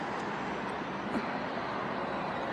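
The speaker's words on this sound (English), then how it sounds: "It's surrounded by cars and traffic, it's noisy" Steady city traffic around a square in Munich, a continuous broadband roar of cars passing nearby with no distinct events, a constant mid-level wash of road noise.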